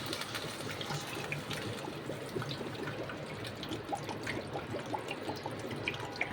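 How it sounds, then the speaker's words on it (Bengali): Water is poured into a pan of simmering curry, a faint steady trickle and splashing with light bubbling throughout, no voices heard. "জল দিয়ে দিচ্ছি"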